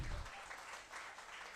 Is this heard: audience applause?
yes